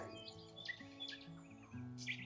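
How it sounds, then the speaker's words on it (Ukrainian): Songbirds in a natural outdoor setting trade quick chirps and short whistled phrases, faint and a little distant, over a soft background, with no voices. "я вам дарую спів птахів"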